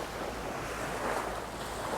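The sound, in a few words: sea waves lapping at the shore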